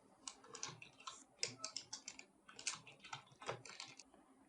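Rapid irregular clicking of keys on a computer keyboard while entering text into a spreadsheet, close and fairly quiet, in uneven bursts with no one talking.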